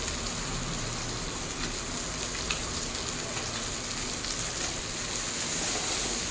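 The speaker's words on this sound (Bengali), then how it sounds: "এই তেলের মধ্যেই পেঁয়াজটা ভেজে নেব।" Chopped onion and green chilli frying in a little oil for a pomfret curry, giving a steady, dense sizzle that stays close and even all the way through, with no talk.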